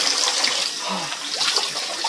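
Cold water pours steadily from a tap or shower, a dense continuous splashing hiss heard close up with no pauses.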